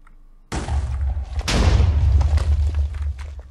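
A dynamite blast destroys a small shed in the Minecraft video game, a sudden loud boom followed by a second heavier rumbling burst that trails off over a few seconds.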